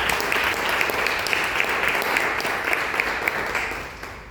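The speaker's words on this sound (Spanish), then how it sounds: "Un aplauso también para él." An audience at a university event applauds in a steady, even wash of clapping, with an occasional louder clap rising from the crowd.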